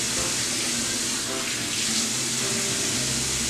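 Water runs steadily from a tap into a sink for dampening the face, a continuous close hiss and splash with no pauses.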